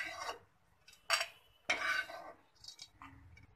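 Cashew and almond slivers roasted in ghee are scraped from a kadhai onto a plate, making several metallic spoon-on-pan scrapes and clinks in short separate bursts, close and fairly quiet.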